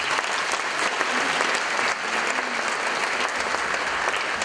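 Dense, sustained applause from an audience at the opening ceremony of the Golden Linden film festival, a steady wash of many hands clapping loudly for the full length with no one speaking.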